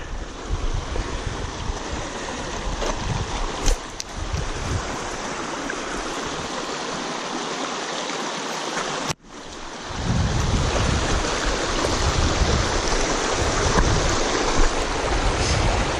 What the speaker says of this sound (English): So this is Panther Creek.